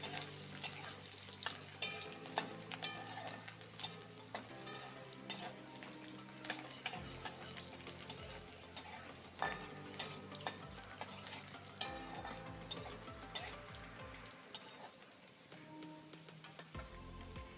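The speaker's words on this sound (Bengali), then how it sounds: "ছোটো সাজের একটা পেঁয়াজ দিয়ে একটু ভালো করে ভেজে নিব" Onion sizzles in oil in a pan while a spatula stirs it, giving repeated sharp scraping clicks over a constant crackle, fairly close and quiet, with no talking.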